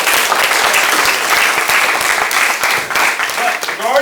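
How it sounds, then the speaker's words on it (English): A crowd at a martial arts belt ceremony breaks into loud, sustained applause for a student, dense clapping filling the room steadily for about four seconds before thinning slightly at the end. "Give James a big round of applause"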